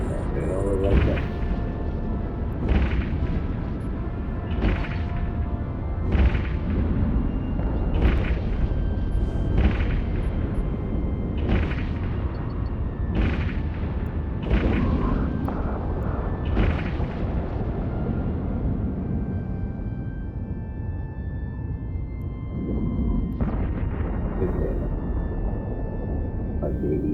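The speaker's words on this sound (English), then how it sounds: "I don't know who my ship is shooting at." Spaceship weapons in EVE Online fire in a steady run of heavy booms, one roughly every second or two, each with a rumbling tail over a constant low drone.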